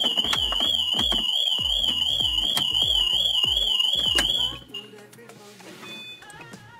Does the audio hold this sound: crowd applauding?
no